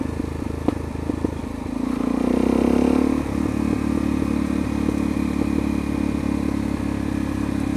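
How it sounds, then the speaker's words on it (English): Ridden on slick tyres in third gear, a Yamaha RZ motorcycle engine-brakes under a steady drone with rhythmic clattering pulses, a brief rising surge in the middle, then an even overrun burble throughout. "Engine braking."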